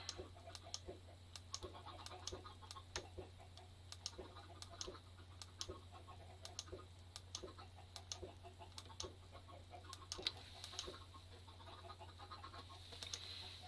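Dense, steady clucking from a crowd of chickens packed into a Minecraft farm pen, with scattered sharp ticking blips over a constant low hum and no talking.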